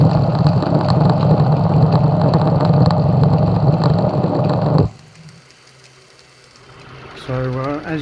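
Tensioner pulley bearing noise from a 2010 Ford BF Falcon engine, a loud dense mechanical whir and rumble running for several seconds before cutting off abruptly, followed by quiet hum and a voice speaking.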